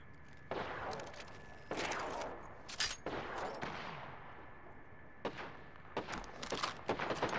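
Gunfire in Apex Legends comes as several separate bursts, some sustained and some short, spread across the whole stretch at moderate distance with no talk.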